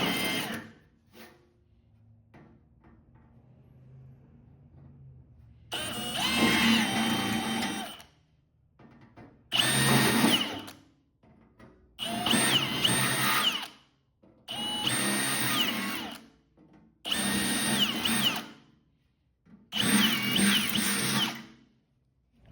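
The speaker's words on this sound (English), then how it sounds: "now I'm just going to drill them back till we reach solid metal" Power drill boring out rusted-through holes in a Skilsaw 77 metal toolbox down to solid metal, six loud bursts of several seconds each separated by short pauses, close up, with no talking.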